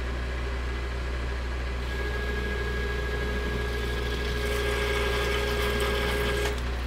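A lathe turns steel with a CNMG 432 insert at 750 RPM, producing a steady mechanical hum with a constant high whine and rough cutting noise, loud and continuous with no voices.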